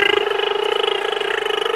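A child imitates an engine with the voice, a steady buzzing vocal drone with rapid pulsing flutter, close and fairly loud, sustained for under two seconds.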